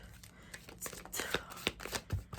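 Tarot cards shuffled by hand close up, a run of quick papery riffles and flicks in irregular bursts, with quiet background and no talk.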